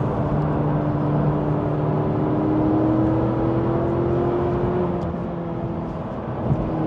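A McLaren 540C sports car accelerating on the road: a loud, steady engine drone heard from inside, with its pitch climbing smoothly under load before easing slightly near the end, and no talking.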